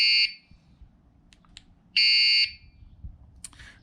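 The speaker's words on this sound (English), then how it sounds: "And then there's an alarm." A bike light's anti-theft alarm sounds two loud, shrill electronic tones, each about half a second long, separated by a pause, with faint clicks between.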